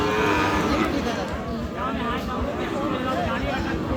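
Cattle, including Sahiwal bull calves, moo loudly and repeatedly at a busy rural livestock market, close by, with crowd chatter and haggling voices underneath throughout.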